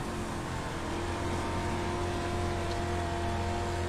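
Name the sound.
dirt race car engine under hard throttle in a racing video game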